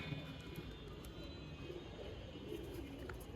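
Pigeons at a loft, faint soft cooing under a steady low background hum, with a distant airplane-like drone throughout.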